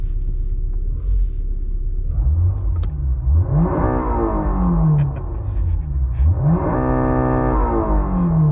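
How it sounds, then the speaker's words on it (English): A Honda battery-electric car plays a simulated Honda S2000 engine note through a vibration speaker in its parking setting, producing two loud rising rev sweeps that climb and fall with a steady synthetic hum beneath, with no talk. "The BEV transforms to S2000 by using the meta display, vibration, and engine sound."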